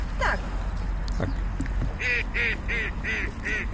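A series of five duck quacks in steady rhythm, close and fairly loud, after some scattered bird calls and rustling outdoors.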